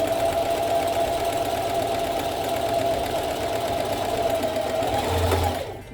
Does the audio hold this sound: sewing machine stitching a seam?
yes